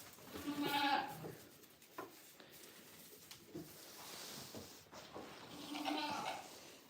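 Goats bleat on a farm, a few separate calls near and fairly clear over a quiet background, with a loud bleat near the start and another toward the end.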